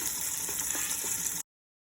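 Beef osso buco sautéing in a pot, a steady close sizzle of hot fat spattering with a few soft pops, continuous for about a second and a half before cutting off to silence.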